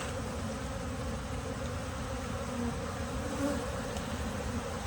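Honeybees buzzing loudly in a hive during a formic acid treatment, a dense continuous drone of many wings, close and unbroken, with no talking.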